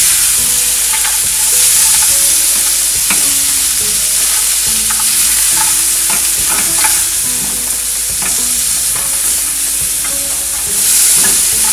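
Chopped tomatoes and cashews sizzle steadily in a hot pan, a continuous loud frying hiss with frequent scrapes and knocks of a spoon stirring, no voices.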